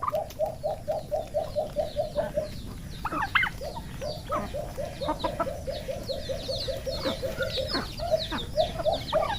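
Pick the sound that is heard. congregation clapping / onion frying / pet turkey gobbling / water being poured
pet turkey gobbling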